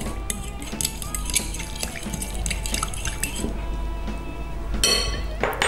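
A fork mixes eggplant and mint in a dish, making quick repeated clinks and scrapes against the dish, close and fairly busy, with a brief louder rattle near the end.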